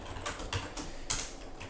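Number entered on a computer keyboard: several quick, crisp key clicks at an uneven pace, close and fairly quiet, with no talk.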